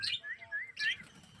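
Caged farm birds, a flock of about two hundred, give soft, close chirps and warbling whistles in a few short bursts against a quiet background.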